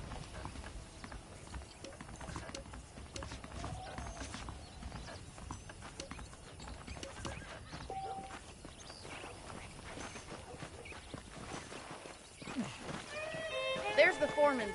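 Horse hooves clip-clop at a steady walking pace in the Western video game Red Dead Redemption, fairly quiet under a low ambient bed, with a louder burst of movement near the end.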